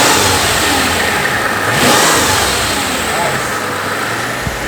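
A V12 engine in a Mercedes SL600 with no exhaust and upgraded turbos revs loudly and close by, rising in pitch with a whooshing turbo spool, while people talk over the roar.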